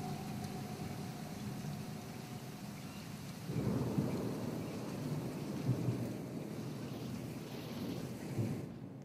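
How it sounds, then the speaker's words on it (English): Steady rain with rumbling thunder in the video game Bear Alpha, a continuous wash of rainfall with a louder thunder swell partway through and another rumble near the end. "Is that rain?"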